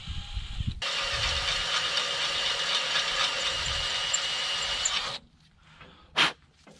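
Drill boring out a fuel system part on a John Deere 2510 tractor, a steady high whine for about four seconds that stops abruptly, followed by a short burst.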